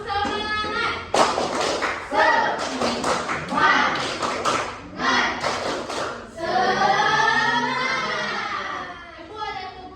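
A class of children performs a rhythmic spirit clap during a civics lesson, with quick bursts of sharp, close hand claps in a patterned beat, followed by a voice speaking alone at the end.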